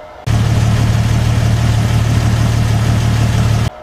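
A Jeep XJ Cherokee with a 4.6L inline-six stroker engine runs at a steady, loud idle, holding a low, even drone from start to finish with no voices.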